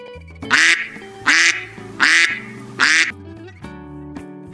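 A duck quacks loudly five times in a steady rhythm, with a light tune playing beneath the calls.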